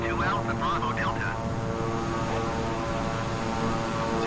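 King Air 350i twin turboprop taxiing in Microsoft Flight Simulator, a steady loud propeller drone with a constant engine hum throughout, briefly overlaid by radio-style speech at the start.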